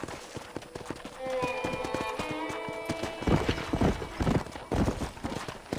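Horse hooves clip-clopping in the Western video game Red Dead Redemption, a steady run of hoof beats with a horse whinnying midway, mixed with background voices and game sounds.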